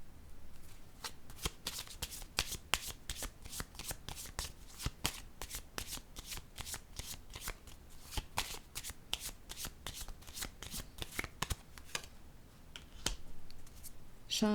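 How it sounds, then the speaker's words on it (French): A deck of cards shuffled in a long run of quick, crisp riffles and taps at a steady fast rhythm, close and moderately quiet, with no voice over it. "Je vais piger une autre carte ici."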